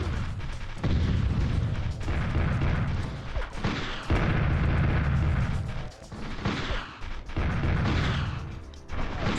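Repeated gunfire and booming blasts from enemy soldiers in Army Men: Green Rogue on PlayStation, dense and loud throughout with bursts and short dips, no talking.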